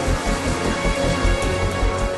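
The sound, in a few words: rain falling from storm clouds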